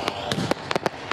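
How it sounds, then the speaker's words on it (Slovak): Scattered sharp pops and cracks of gunfire and small explosions ring out in quick irregular bursts, moderately loud against a low background, during a 1:6 scale-model battle with ships, tanks and aircraft. "Dramatickú bitku sprevádzala streľba a výbuchy."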